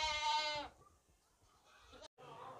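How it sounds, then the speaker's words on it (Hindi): A pregnant female goat at a livestock market lets out a loud, wavering bleat up close, followed by quieter background noise and someone speaking. "ये बकरी देखें माशाल्लाह"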